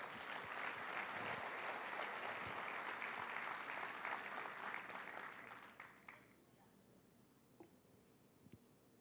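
A church congregation applauds during a sermon, the clapping sustained and full for about six seconds before fading into quiet room tone with a few scattered claps.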